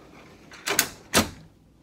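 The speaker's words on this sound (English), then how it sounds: "And there's another pocket door in here." Pocket door in a 2018 Tiffin Allegro 37 PA Class A motor home: two quick sliding swishes close together, near and fairly loud, against a quiet interior.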